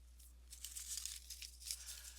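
A strip of paper bag being opened up and unfolded, soft crinkling and tearing rustles, quiet and close, with no voices.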